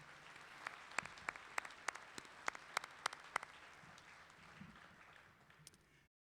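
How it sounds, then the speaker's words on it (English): Faint, distant applause at a college commencement honoring former employees, with a few distinct claps standing out early before the clapping thins and fades. "Please join me in a round of applause to thank them for their contributions to Jefferson"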